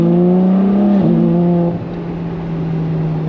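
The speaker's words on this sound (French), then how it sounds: "je conduis une TDF pour la première fois" A Ferrari F12 TDF's engine holds a loud, close steady drone while driving, briefly shifting pitch as the revs change and then settling lower and even.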